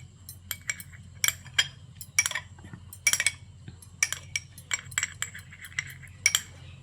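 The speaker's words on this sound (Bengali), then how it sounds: "একটু ভালো করে একটু নাড়িয়ে নেব ডিমটাকে" Egg being beaten in a bowl, a run of quick metallic clinks and taps of utensil against the bowl in irregular bursts, close and fairly crisp, with no talk.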